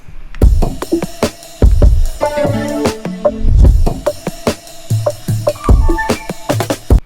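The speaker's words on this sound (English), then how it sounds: "Alright, here's the drums." A punchy drum beat with heavy kicks and sharp snare hits, loud and close, with bass and piano tones sounding between the hits.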